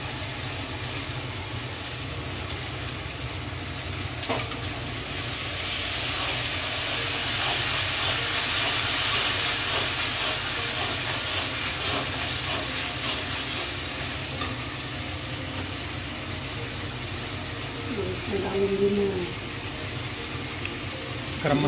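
Arbi leaves frying in a pan over a low flame, a steady soft hiss and gentle bubbling sizzle that continues evenly throughout at moderate loudness, with faint clatter.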